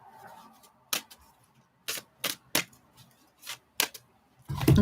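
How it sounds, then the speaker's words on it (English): Tarot cards are shuffled and cut in a series of sharp, separate riffle snaps and slaps spaced irregularly across a quiet room, ending in a louder rustling burst. "Give these a good shuffle."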